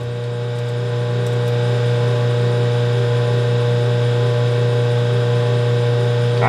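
A 1/16 inch drill bit bores a hole in sawmill equipment, giving a steady, continuous mechanical whine with a strong low hum that holds at even loudness throughout, with no talk over it.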